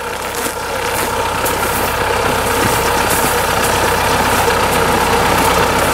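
A homemade tractor fitted with a combine harvester's engine idles up close, a steady, loud mechanical drone with a rough, knocking texture that holds constant throughout.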